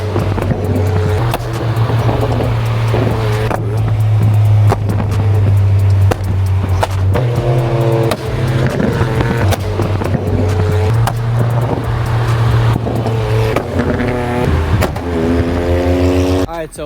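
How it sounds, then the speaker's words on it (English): Nissan Z engine pulling hard through fourth gear, a loud sustained roar with rising pitch over about seventeen seconds, with brief dips at shifts or lifts, close and dominant. "Fourth gear pull, let's go."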